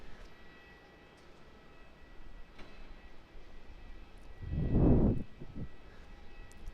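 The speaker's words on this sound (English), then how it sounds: "Qantas Boeing 787-9, you can see it just there. Also taxiing to runway" A Qantas Boeing 787-9 taxiing toward runway 16 at Melbourne Airport, heard as a faint distant engine hum over quiet background that swells into a louder, brief roar before fading again.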